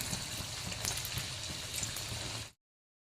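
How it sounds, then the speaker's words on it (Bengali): Fish frying in a pan gives a soft, even sputter and bubbling hiss that runs steadily and then cuts off abruptly. "বাকি মাছগুলো আমি একইভাবে ভেজে নিচ্ছি"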